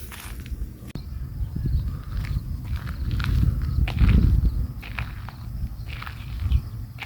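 Footsteps walk steadily outdoors near a marina, crunching in a regular rhythm close by over a low background rumble, with no talking.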